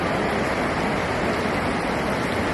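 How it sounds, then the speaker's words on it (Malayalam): Steady rushing water flows with a dense, continuous roar, loud and unbroken throughout, with no voices. "റോഡിലൂടെയാണ് ആ വെള്ളം ഒഴുകുന്നത്"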